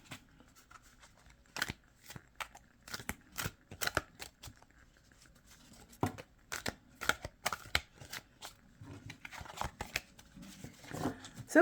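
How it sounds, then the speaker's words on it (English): A thick, slightly shiny Christmas Spirit oracle deck is shuffled overhand nearby. Soft papery slaps and riffles come in irregular bursts with short pauses between them. "I do an overhand shuffle with them."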